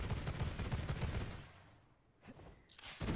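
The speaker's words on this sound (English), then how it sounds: "And this is the pistols. They're called the Endbringer pistols." Endbringer pistols fire in rapid bursts in the video game V Rising, a dense loud rattle of quick shots that fades briefly, then resumes with a few more sharp cracks.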